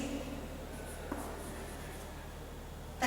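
Quiet scratching of chalk or marker writing on a board during a physics lecture, faint soft strokes over a low room hum with a brief tap.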